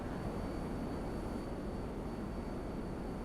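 A steady, broadband jet engine roar from GTA Online fills the scene as a continuous airy rush at even loudness, with no voices.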